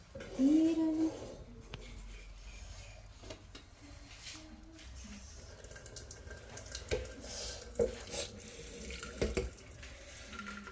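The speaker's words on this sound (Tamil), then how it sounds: "போதும் பாஸ்மதி ரைஸ் இந்தளவுக்கு வெந்தால் போதும் இப்போ ஆஃப் பண்ணிவிட்டு வடிச்சு விட்ருவோம்" Water from boiled basmati rice pouring and draining away, a running, splashing flow with scattered drips and clinks, fairly close and moderately quiet.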